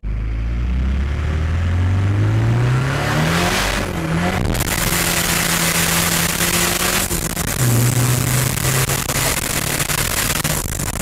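A Nissan car engine, driven by a mechanic on a test drive, revs hard and loud throughout, its pitch climbing through the gears, dipping and climbing again. No one talks.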